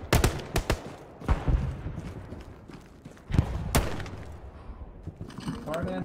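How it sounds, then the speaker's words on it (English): Gunfire in Hell Let Loose, the World War II shooter: sharp cracks and bursts of shots, some close and loud, others further off, amid scattered rustling and movement, with a voice speaking briefly. "Hey, where are those shots coming from?"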